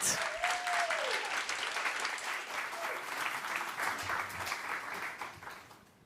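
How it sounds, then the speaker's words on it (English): An audience at a young innovators' awards showcase applauds to welcome the first finalist: a soft, even spread of many hands that holds steady, then thins and fades toward the end. "do one round of applause to welcome our first finalist, Shri"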